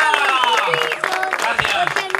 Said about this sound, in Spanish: Venga, ese aplauso entre todos.